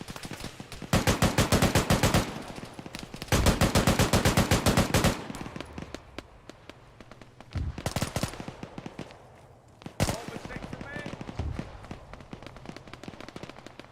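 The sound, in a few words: gunfire aimed at a player in the video game Arma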